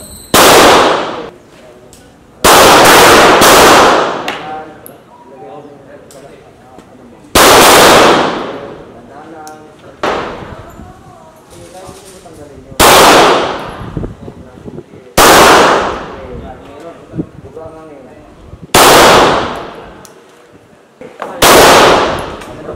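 Gunshots from a firearm at shooting practice during cross-dominant left-handed shooting drills: six loud, sharp reports spaced a few seconds apart, each with a short ringing decay, with an instructor talking between shots.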